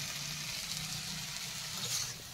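Leafy greens fry in a pan with a steady bright sizzle, close and continuous, with soft stirring movement underneath.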